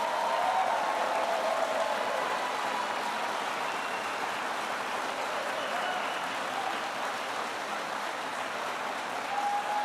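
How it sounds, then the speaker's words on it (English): An audience at a political event applauds, a dense, sustained wash of clapping that holds steady from start to finish. "Let's give them a round of applause."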